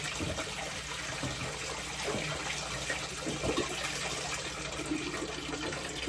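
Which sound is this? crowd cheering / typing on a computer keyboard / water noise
water noise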